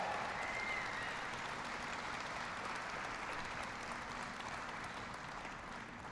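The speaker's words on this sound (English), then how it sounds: "Give them all a big round of applause." A crowd at a political event in Ohio applauds in a faint, distant, steady wash of clapping that carries on evenly throughout without any voices over it.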